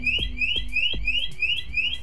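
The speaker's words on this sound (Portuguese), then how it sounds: "Após os 30 segundos, o alarme irá disparar" A loud electronic motorcycle alarm siren wails in a steady repeating sweep, rising and falling about every third of a second, continuous and close.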